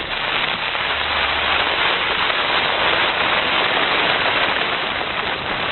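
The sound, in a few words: heavy rain on tents during mountain expedition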